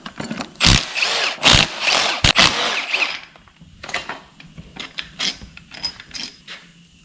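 An AC compressor bracket is bolted back onto an LS engine with a hand ratchet, giving close, bright bursts of rapid clicking, then shorter spaced clicks and light metal taps.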